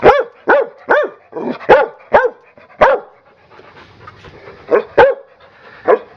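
A female dog yips, barks and whines in a rapid series of close, loud bursts, with softer panting breaths in the gaps between calls.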